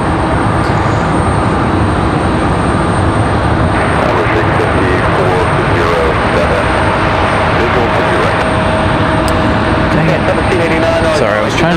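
Steady, loud jet engine roar from a Boeing 737 airliner at Raleigh-Durham International Airport, a broad continuous rumble and whine that holds level throughout with no pauses.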